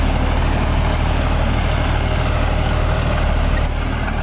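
A John Deere 5405 4WD tractor fitted with rear wheel weights runs at a steady, loud, close-up engine drone. The rumble is dense and even, with no clanking or rattling, and holds unchanged throughout.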